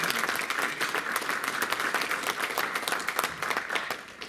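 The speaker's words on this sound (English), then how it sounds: "President Saini and his team deserve a round of applause" A round of applause at a City Hall press conference announcing a cricket tournament, scattered hands clapping at moderate volume with crisp individual claps audible throughout.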